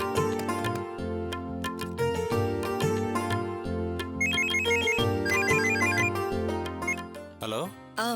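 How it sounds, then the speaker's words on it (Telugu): A phone ringtone plays while a call is placed, a loud repeating electronic melody running through nearly the whole stretch before cutting off near the end. "ఒకసారి ఫోన్ ఇస్తావా? మా వారికి ఫోన్ చేయాలి."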